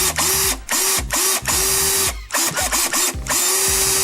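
A handheld power drill runs in short bursts, its motor whining up and stopping repeatedly in a stuttering rhythm, loud and close with no talk.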